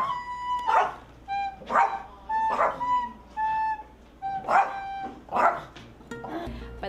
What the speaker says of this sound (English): Sometimes he gives a little bark when he's too excited.